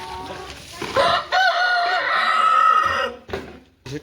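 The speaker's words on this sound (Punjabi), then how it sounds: "ਇਹ ਕੁੱਕੜ" A rooster crows loudly and close by in one long drawn-out call, with a few short clucks and scuffles before and after it.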